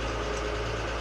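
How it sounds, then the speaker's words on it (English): An off-road truck engine with its exhaust routed up near the cab idles in a low, steady rumble with a throbbing pulse, close and continuous, with no voices. "Because I'm hearing a lot of exhaust note."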